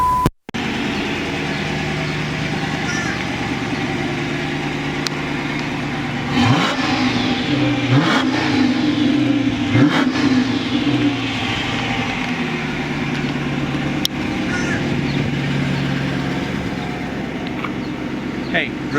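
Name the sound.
muscle car engine starting and revving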